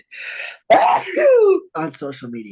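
A person lets out a loud, forceful sneeze between stretches of talk, with other voices around it in a casual conversation.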